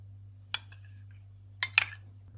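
A spoon clinks against a bowl while yogurt is added to mayonnaise: one sharp tap, then a quick double clatter a second later, with quiet between.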